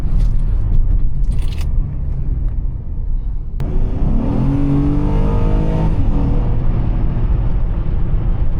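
A V6 Honda Accord EX-L with 278 hp accelerates hard in sport mode: after a few seconds of road rumble the engine note rises sharply and climbs through the revs, loud and close from inside the car.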